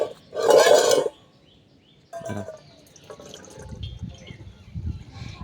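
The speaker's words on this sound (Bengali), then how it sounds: "এবার আমি এরকম একটা ফুটো বাটির মধ্যে জলটা ভালোভাবে ঝরতে দেবো" Water draining from soaked sago through a colander, a brief loud gush of pouring liquid followed by softer trickles and drips that continue faintly to the end.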